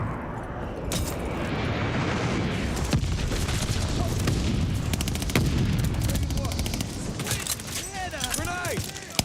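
Video game battle with glide bomb explosions and sustained gunfire: dense, loud rattling shots and booming blasts throughout, with a voice speaking briefly near the end.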